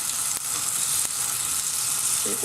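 Chocolate and strawberry spring rolls fry steadily in a pan of hot oil, a dense continuous sizzle with a couple of faint clicks and no voices.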